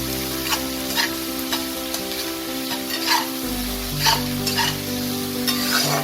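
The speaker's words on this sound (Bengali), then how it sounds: "পেঁয়াজটাকে 2-3 মিনিটের মতো আমি তেলে একটু নাড়াচাড়া করে নেব।" Onion paste is stirred and fried in oil for a Bengali tilapia fish curry, a close steady sizzle punctuated by regular scraping strokes of the spatula, with a low background hum.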